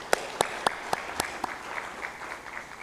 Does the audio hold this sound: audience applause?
yes